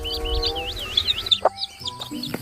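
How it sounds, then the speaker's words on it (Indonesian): Rooster crow from an animal cleaning video game, warbling chirpy calls over a tonal game backdrop, followed by short clucks and chimes, with no talk. "Muncul seekor ayam jago."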